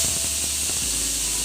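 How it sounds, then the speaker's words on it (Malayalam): Steam hisses steadily and loudly from a pressure cooker whistle while moong dal cooks in water, a continuous broadband rush that holds for the whole stretch with no voices. "3 വിസിൽ വിടുക."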